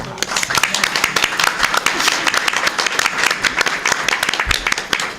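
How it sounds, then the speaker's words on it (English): Steady round of applause fills a board of education meeting room, many hands clapping densely and evenly at close range for several seconds. "Let's give her a round of applause."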